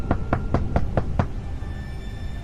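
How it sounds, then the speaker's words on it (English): A quiet knock at a door, six sharp raps in an even rhythm over about a second, followed by a low steady background hum. "there was a knock at the door"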